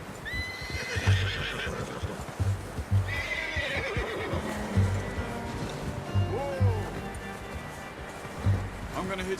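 A horse whinnies several times in the Red Dead Redemption 2 video game, with hooves clip-clopping at an unhurried pace nearby, while someone speaks over the sounds and faint water murmurs in the background.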